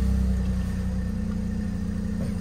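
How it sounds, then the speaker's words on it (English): A 2014 Mini Cooper petrol engine idles just after start-up, a steady low hum that carries on evenly and close by, with no voices. "I'll just start the engine up"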